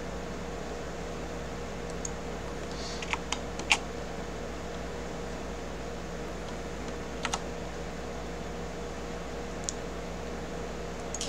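Sparse, faint keyboard taps on arrow keys while nudging a low-poly game object into place in Blender, a few isolated clicks over a steady hum of fan and room noise.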